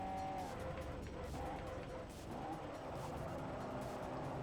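Race car in Forza Motorsport 4 braking hard, steady engine drone with tire scrub and a brief dip as speed drops, fairly quiet and continuous.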